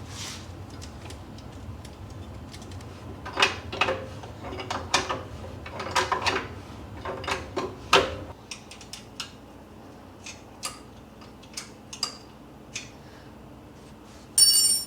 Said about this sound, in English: adjust this collet right here and put some more slack in the spring